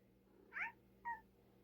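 A cat gives two short, faint meows, the first slightly longer and rising, the second clipped, separated by a brief pause against a quiet low hum.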